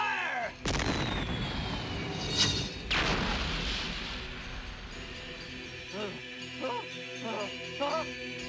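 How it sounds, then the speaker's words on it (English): Cannon fire from the anime film Akira: two heavy, broad booms a couple of seconds apart, each with a rumbling tail, followed by a quieter stretch of scattered shouts and commotion. "Cannon armed and ready, sir."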